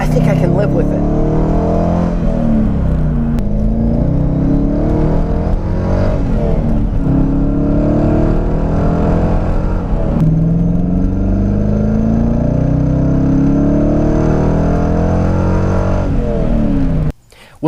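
A Corvette C5 Z06 with a Borla Stingers aftermarket exhaust revs repeatedly, loud throaty engine note rising and falling in several pulls before cutting off abruptly near the end.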